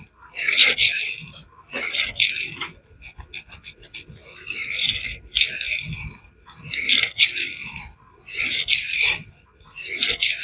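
A knife edge pushed across Scary Sharp sandpaper, a series of crisp, close gritty scraping strokes in an even back-and-forth rhythm with short gaps between passes.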